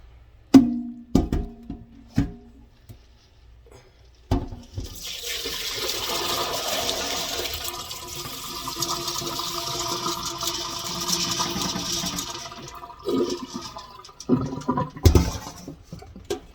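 Water pours steadily through a strainer as soaking beans are drained for pressure canning, a sustained rushing flow after a few clunks, with more knocks and clatter as it ends.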